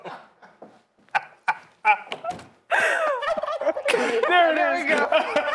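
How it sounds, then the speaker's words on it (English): A turkey sound toy gobbles loudly, a rapid warbling burst that follows a few short clicks and taps, close to the microphone and with no talk over it. "The turkey one gets me a little bit more because it actually gobbles."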